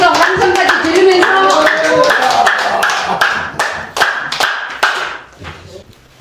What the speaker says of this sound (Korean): 그 박수를 많이 쳐주시기 바랍니다.